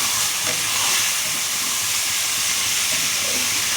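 Half a kilo of mutton is tipped in among cooked onions, setting off a loud, unbroken hiss of hot fat and steam, close by and steady throughout, with no talk.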